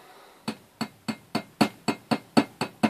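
Ten evenly spaced, gentle hammer taps on the working end of a drill bit, close and sharp with a short ringing metallic decay, in a steady rhythm with no talking.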